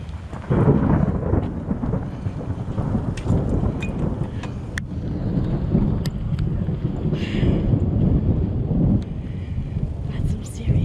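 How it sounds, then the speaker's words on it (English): Deep rolling thunder rumbles continuously beneath steady rain and gusting wind, with a few sharp crackles. No clear talking, just the storm. "That's some serious thunder."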